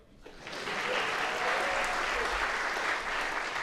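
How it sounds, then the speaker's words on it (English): A keynote audience at the Big Android BBQ 2015 conference breaks into steady applause that swells in quickly and holds for several seconds, a full room clapping together. "Round of applause for money."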